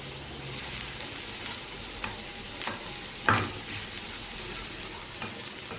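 Chopped onions frying in a pan for an Egyptian oxtail tagine, with a steady close hiss of sizzling oil and a few sharp stirring scrapes and clicks, no voices.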